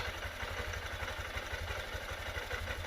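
A 2023 Honda CB125F motorcycle engine idles steadily after a cam sprocket replacement, with a low, even chugging rumble and faint mechanical clatter, nothing else over it.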